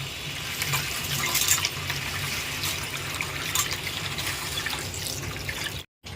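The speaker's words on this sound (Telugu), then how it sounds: "రైస్ అయితే శుభ్రంగా కడుక్కుని నానబెట్టుకున్నానండి." Rice being washed in water for moong dal pongal makes a close, continuous splashing and sloshing that stops abruptly just before the end.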